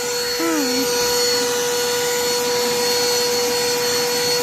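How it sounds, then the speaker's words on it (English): A steady, high-pitched vacuum cleaner whine runs throughout, with a brief voice-like chirp early on over the constant motor drone. "I went to clean out my vacuum cleaner"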